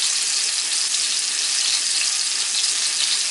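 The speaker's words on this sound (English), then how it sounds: "we're going to put these in the pan, and you'll probably hear it sizzle because it's definitely hot" Salisbury steak patties sizzle in a hot pan, a steady, loud crackling hiss that holds evenly throughout with no talking.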